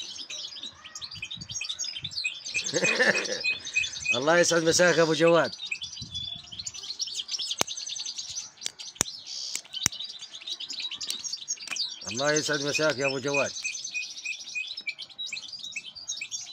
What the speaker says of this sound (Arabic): طائر الحسون